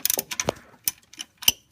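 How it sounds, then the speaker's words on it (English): A ratchet wrench loosening the top alternator bolt on a 2003-2004 Ford Mustang SVT Cobra, heard as close, crisp irregular clicking bursts from a few quick strokes. "Remove the top alternator bolt with a 15mm wrench."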